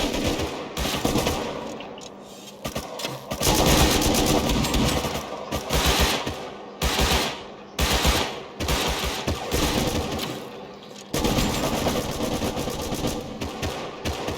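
Gunfire in the survival video game Rust comes in loud, rapid automatic bursts separated by short pauses. The shots are close and dominate the scene, and no one speaks.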